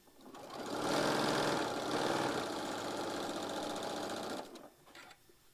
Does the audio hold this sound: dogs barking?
no